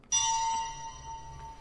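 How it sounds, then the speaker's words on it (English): Lightsaber clash from The Mandalorian duel: one sharp metallic ring struck near the start, then a sustained bright tone slowly decaying over a low hum, no talking. "the sound of her sabers, too, is just perfect"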